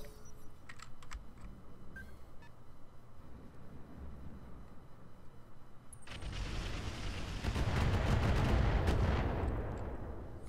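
Big-gun artillery fire in the mech strategy game Roguetech, a sudden heavy blast that swells into a long, roaring rumble after a stretch of quiet clicking interface sounds.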